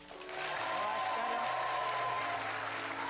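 Studio audience applauding on a game-style show to vote for a contestant, swelling quickly into a steady, sustained roar of clapping with some crowd noise and a faint tonal hum beneath.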